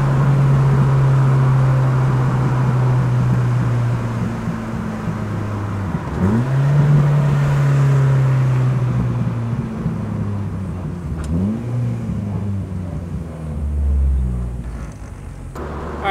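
A car with a B20 engine accelerates uphill, its engine droning steadily under load, with a rising then falling pitch as it shifts into second and then third gear. The sound is loud, close and continuous, with no talking.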